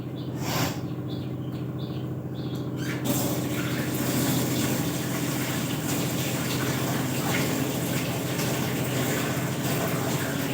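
Items are washed by hand under a running tap, giving a steady close rush of water with a few light splashes and clinks near the start.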